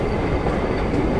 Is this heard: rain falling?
no